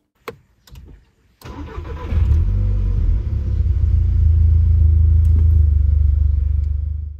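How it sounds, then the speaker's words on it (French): A Volkswagen Golf 6 GTI starting after a fuel filter change: a few clicks, a brief crank, then the engine catches quickly and settles into a loud, steady idle rumble, no talking. "vous pouvez démarrer le véhicule qui devrait démarrer au quart de tour"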